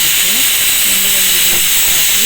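A pressure cooker releasing steam through its whistle while cooking mung bean rice, a loud, continuous close hiss with faint wavering tonal whine, and a voice speaking over it.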